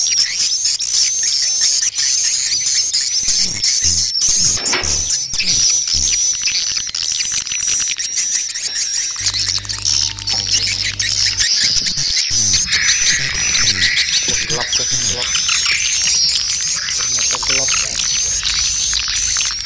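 Birds call and chirp around a nest box in an outdoor setting, a dense, steady chorus of high chirps with insect-like buzzing running throughout, loud and continuous without a break.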